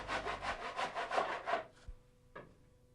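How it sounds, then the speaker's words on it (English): A tenon saw cuts through a small decorative timber bead in about seven quick, close rasping strokes, then stops, followed by a couple of light knocks. "it is a good idea to use a tenon saw when cutting small decorative timber like this"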